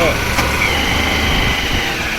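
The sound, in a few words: vehicle engine as Bapu drives off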